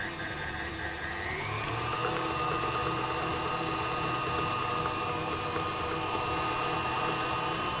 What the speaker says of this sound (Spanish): comenzar a batir a una velocidad número 4 aproximadamente por unos 8 minutos